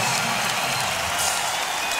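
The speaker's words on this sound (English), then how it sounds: "Crowd loves it too." A basketball arena crowd cheers and applauds a Houston Rockets basket during an NBA game against the Mavericks, a dense, steady roar filling the whole moment without a break.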